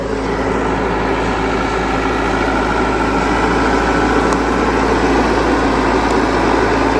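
A car engine idles steadily and loudly nearby while the car backs up, a constant low rumble with no change in pitch across the whole stretch.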